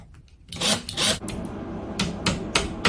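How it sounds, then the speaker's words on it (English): Feet being tapped into the wooden base of a cushioned vanity stool, a close series of sharp knocks and rubbing scrapes, about five or six distinct hits over a few seconds. "the same process of tapping the K feet into the base, 1 on each side"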